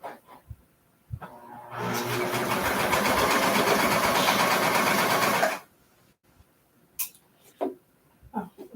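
A serger runs across fabric in one continuous close, loud burst of rapid stitching lasting a few seconds, with fainter handling clicks and rustles before and after.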